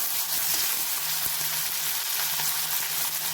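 Dried red chillies and coriander sauté in a pan for a radish chutney, giving a steady, close, continuous sizzle that holds evenly for a few seconds with no talking.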